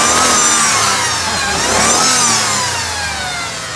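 A Ford car engine, fitted with new spark plug cables, roars loudly up close, its revs rising and falling in long sweeps while it runs steadily with no voices.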